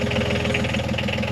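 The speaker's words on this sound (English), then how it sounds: "I want to try one more start of the engine." A sailing boat's engine churns close and loud in a steady, rough mechanical rhythm, a continuous throbbing drone with knocking pulses and no voices over it.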